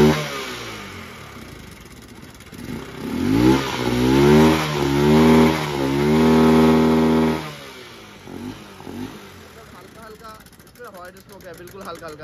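A Honda Shine motorcycle engine runs after finally starting, rising into a few strong revs close by then dropping back to an uneven idle, with someone talking over parts of it.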